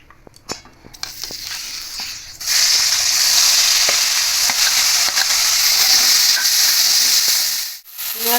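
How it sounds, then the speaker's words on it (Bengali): Prawns frying in oil, opening with a few clinks and stirring knocks of a utensil against the pan, then a loud, continuous sizzle that swells and holds, dipping briefly near the end. "মাছ ভেজে নেব।"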